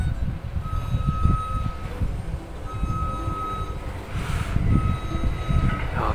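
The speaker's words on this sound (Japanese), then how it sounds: "今度は近鉄特急が通っていきますけどね" A Kintetsu limited express train rumbles past nearby in Nara with steady rolling noise, while a high tonal beep or squeal rings out repeatedly over it.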